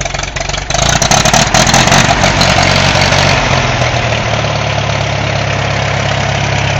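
A Farmall M tractor engine idles steadily after a cold start, a loud, close, even chugging with a deep low rumble that holds throughout.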